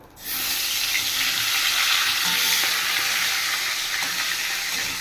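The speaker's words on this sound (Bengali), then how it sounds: "তেলের মধ্যে মাছটা ভাজা বসাবো" Fish head frying in hot oil, a loud, steady, dense sizzle that starts abruptly and holds evenly throughout, close up with no voices.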